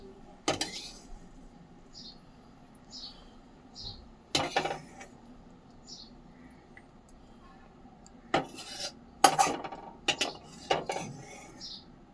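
Prawn curry (chingri macher kosha) served into a bowl, with sharp, close clinks and scrapes of a metal spoon against the dish spaced across a quiet kitchen, plus faint brief speech.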